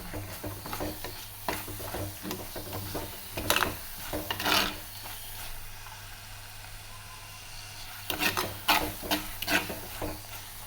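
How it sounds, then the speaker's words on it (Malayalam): Masala powders being stirred and fried in a pan: a steady soft sizzle runs throughout, broken by bursts of scraping and rubbing strokes from the spoon, heavier near the start and in a quick cluster toward the end. "മസാലേൻ്റെ ആ പച്ചമണം പോണ വരെ ഒന്ന് ഇളക്കി കൊടുക്കണം കേട്ടോ."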